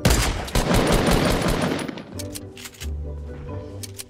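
Gunfire in a Fortnite match: a loud, rapid stream of shots close by that cuts off, then a few scattered clinking shots and impacts, with a low rumble underneath.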